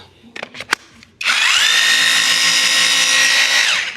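An FGT rotary hammer drill with 2.8-joule impact, part of an FGTG4 tool kit, starts after a few clicks and handling knocks, then runs steadily and loudly with a high whine for nearly three seconds before winding down.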